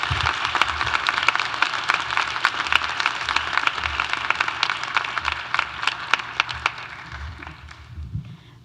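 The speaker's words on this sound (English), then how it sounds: "Please give our keynote, Aisha Ghazi Edwin, another round of applause." Sustained, dense applause from a large audience at a graduation celebration, a steady wash of many hands clapping that carries on for several seconds before thinning out at the end.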